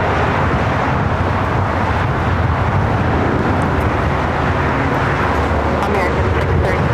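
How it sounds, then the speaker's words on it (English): An American Airlines Boeing 777-300ER departing LAX for London Heathrow gives a loud, steady broadband engine roar that persists through the full stretch with little change in level. "It's American 136 taking off to London Heathrow on the 777-300ER."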